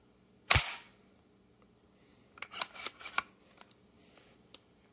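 Rimfire HK 416 tactical rifle fires one sharp, loud shot near the start, followed by a cluster of quieter metallic clicks and clacks of the action, with no talking.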